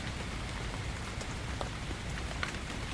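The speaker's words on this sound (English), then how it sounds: "held by the gentle cadence of the rain" Gentle rain falls steadily in a forest, a soft continuous patter with scattered individual drops ticking more distinctly here and there, no voices present.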